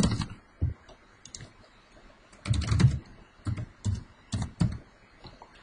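Someone types a username and password on a computer keyboard, producing bursts of sharp, close clicking keystrokes with short pauses between groups.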